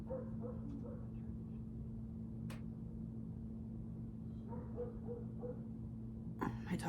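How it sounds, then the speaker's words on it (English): A dog outside barks and yips in short, muffled bursts that sound distant and faint over a constant low hum. "my dog's really going nuts outside."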